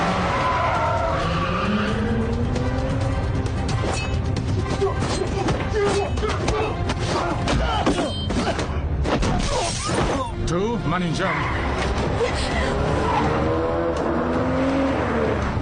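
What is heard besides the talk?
cars in a chase, tires skidding, from a film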